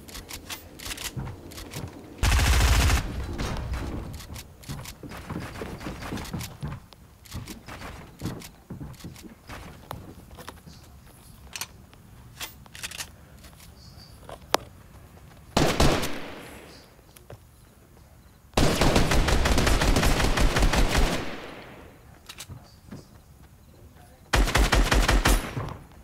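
Fortnite gunfire crackles in bursts of rapid shots, loud and near, between stretches of quieter in-game footsteps and clatter.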